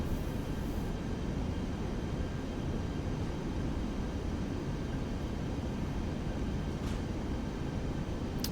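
An Airbus A320 landing in a virtual reality flight simulator: a constant, loud broadband engine and wind roar with a steady low rumble, unbroken and even throughout.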